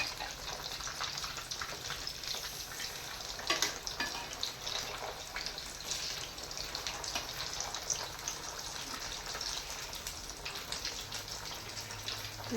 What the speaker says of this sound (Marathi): आता असे परतून घेऊ त्यांना.